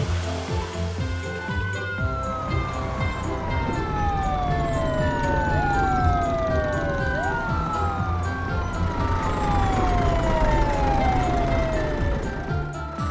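Several emergency sirens from toy-style ambulance, fire engine and police car wail together, rising and falling in overlapping sweeps, loud and continuous over background music and rumble.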